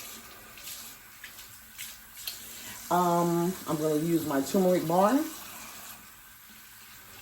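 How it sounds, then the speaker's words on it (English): Water runs steadily from a tap into a sink as a constant background hiss, while someone speaks over it in a nearby room. "Let's get some little water going on."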